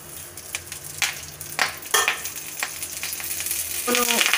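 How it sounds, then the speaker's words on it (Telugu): Curry leaves fry in a little oil in a kadai, giving a steady close sizzle broken by a few sharp spatters and stirring clatters. "ఇదే కడాయిలో కొంచెం ఆయిల్ వేసి కరివేపాకు వేయించుకుందాం."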